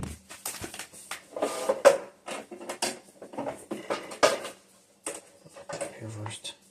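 Screws are driven into the casing of a Simder MIG welder (SD-4050pro / Mig-140s) in bursts of clicking, ratcheting and creaking with pauses between turns, and a voice can be heard briefly.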